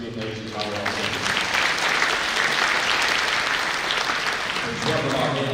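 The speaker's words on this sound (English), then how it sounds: "Let's give another round of applause to these three amazing volleyball players." Audience applause for three volleyball players at a high school signing ceremony, a loud sustained burst of crowd clapping that starts under a speaking voice and then carries on alone.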